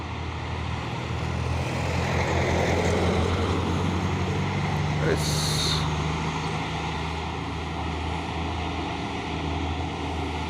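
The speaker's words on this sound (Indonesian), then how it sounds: "Masuk lagi truk Hinobox Anugrah Mandiri Transport." A Hino box truck drives in on a road, its engine a loud, continuous broadband roar that stays close and steady, with no talk over it.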